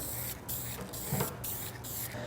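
Bursts of hissing aerosol spray paint, several short sprays separated by brief pauses, close and steady, during restoration of a 1979 El Camino.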